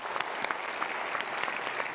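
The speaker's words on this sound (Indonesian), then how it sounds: "kita berikan tepuk tangan untuk mereka." Studio audience applause on a motivational talk show, brisk clapping with distinct individual claps standing out, steady and moderately loud for two seconds, no voices over it.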